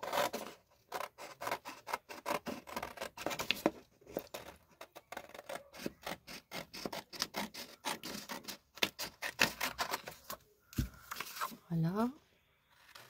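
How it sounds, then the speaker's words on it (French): Scissors snip repeatedly through creative paper, a quick irregular run of crisp close cuts and rustles with brief pauses, and a voice speaks in French over parts of it. "Je vais découper"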